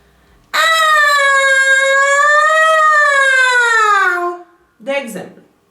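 A single voice imitates a wailing siren, holding a loud, rising and falling tone for about three and a half seconds, then breaking off into a brief second vocal swoop.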